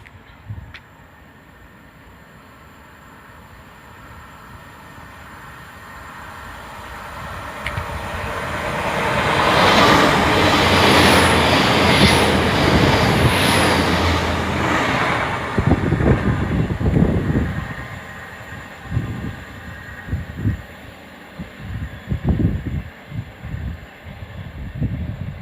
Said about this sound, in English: But the Great Western Hitachi is now coming.